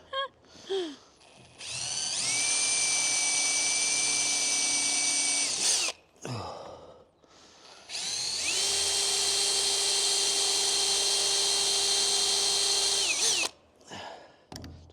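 A drill whines in two long, loud bursts with a short pause between them, each winding up and spinning down, close by.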